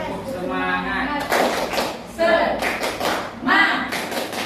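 Students in a classroom perform a rhythmic clap-and-chant routine, with three sharp bursts of clapping at regular intervals between chanted voices, loud and close.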